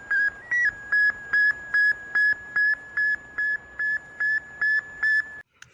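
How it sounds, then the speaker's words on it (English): The Sputnik 1 satellite's radio signal sounds as a steady series of about a dozen clear, evenly spaced electronic beeps, all at one high pitch, loud against a faint hiss, before stopping abruptly. "it did absolutely nothing except make a very loud beeping noise on a certain frequency."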